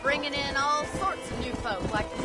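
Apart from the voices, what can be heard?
No everyday noise stands out behind the speech.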